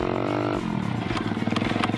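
A game motorcycle engine drones at a steady pitch and then drops into a lumpy, pulsing idle, with a few knocks and clatters breaking in. The sound is fairly close and has no talk over it.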